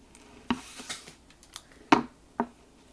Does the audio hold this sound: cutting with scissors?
yes